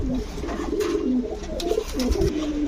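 Pigeons of breeds such as Budapest, Saharanpuri, racer and Giribaz coo in repeated low, throaty rolls close by, several birds overlapping in a continuous cooing chorus.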